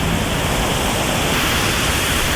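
River water rushing at a dam on the Tukad Yeh Unda in Klungkung, Bali, a steady broadband roar that holds constant and fairly loud throughout with no voices.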